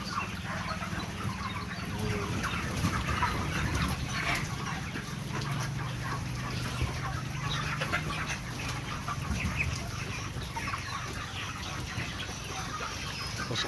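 Broiler chickens on a farm flock of about 600 birds, clucking softly and steadily as a scattered, continuous murmur at moderate distance with no talking.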